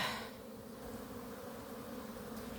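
Honey bees drone at the hive in a dense, continuous buzz that holds steady and fairly close throughout, with no voices.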